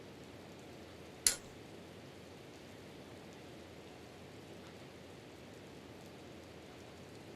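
Rain in the video game Breath of the Wild falls as a soft, steady hiss throughout, faint and even, broken once by a brief sharp click early on.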